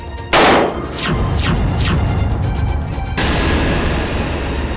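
A gun fired upward in a TV drama scene: a sudden loud blast followed by a rapid run of several sharp shots, then a sustained roaring boom as echoes and rumble fill the scene.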